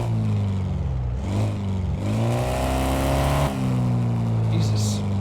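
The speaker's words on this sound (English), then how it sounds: "Why are the RPMs so freaking loud already?" A car engine in the video game Car Mechanic Simulator 2026, car on a workshop lift, drones loudly and revs up and down in pitch, steady and close, with a short dip before climbing again.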